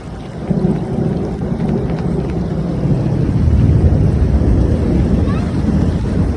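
A thunderstorm with lightning and rain rolls over a flooding yard near a garage, with deep, continuous thunder rumbling beneath the steady hiss of rain and gusts of wind buffeting the microphone.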